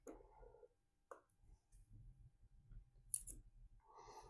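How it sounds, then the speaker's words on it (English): Wire crimp terminals are seated in a crimping tool for a Bobcat job, giving a few quiet, sharp clicks spaced unevenly amid faint handling rustle. "as they hit bottom, they'll start to click"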